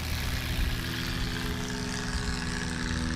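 A Cessna 170 light aircraft at full power on its takeoff roll at a short takeoff and landing competition in Ontario, Oregon, producing a steady droning engine and propeller roar that stays loud and even, with no voices.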